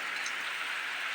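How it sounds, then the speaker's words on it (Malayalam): Rain falls steadily in a continuous soft hiss of drops on surfaces, fairly quiet and even throughout, with no one speaking. "അപ്പോൾ ഇവിടെ മഴയാണ്"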